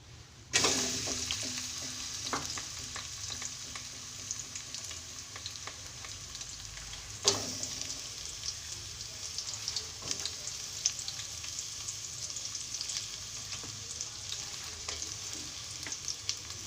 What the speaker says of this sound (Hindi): हमारा तेल हीट अप हो गया, अब इसमें मैं ये प्याज डाल रही हूँ।